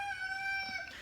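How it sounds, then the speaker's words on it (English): A rooster crows once in a long, drawn-out call, fairly faint and somewhat distant, with no voices. "Stupid roosters."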